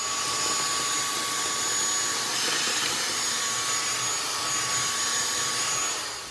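A Bissell Featherweight lightweight stick vacuum runs close by with a loud, continuous airy whine and rush that stays steady for several seconds, with no voices over it.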